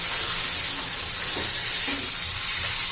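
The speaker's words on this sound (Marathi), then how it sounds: "चांगल्या तेलामध्ये आपण परतून घेऊया" Green chillies with turmeric sautéing in hot oil, a steady close sizzle that holds evenly throughout with faint stirring scrapes.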